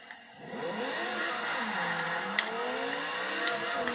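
An all-wheel-drive GT LM race car engine in Forza Motorsport 6 revs upward steadily and loudly, its pitch climbing through the gears in a continuous synthetic-sounding roar.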